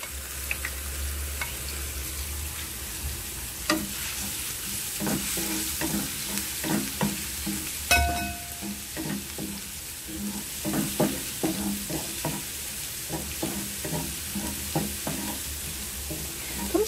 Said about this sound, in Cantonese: 呢個蒜蓉我哋一半俾落去炸一炸，一半就唔炸啦。